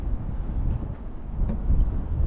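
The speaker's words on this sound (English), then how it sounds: "it's pretty windy guys, so sorry if you can't hear me" Strong outdoor wind buffets the microphone with a steady low roar for the whole stretch, swelling slightly near the end, at an RC car speed run with a Tamiya TT02.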